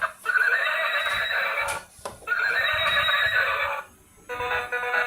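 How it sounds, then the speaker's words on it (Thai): A toy horse gives out a recorded neigh, two long shrill whinnies followed by the start of a third, close and loud, with no one talking. "ต่อไปนี่ฮอส ม้า"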